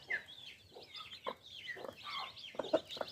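A hen clucks softly while her chicks peep around her as they feed on grain, faint scattered calls in short bursts.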